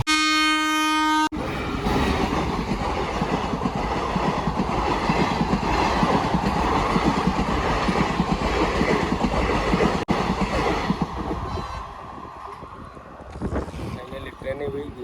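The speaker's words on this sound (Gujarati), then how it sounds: "ટ્રેને વહી ગયો હવે છે ને ફાટક ખુલી જાય" A train rumbles past a closed railway gate with steady, loud clickety-clack from the wagons, preceded by a brief horn blast, then fades toward the end as the noise thins out.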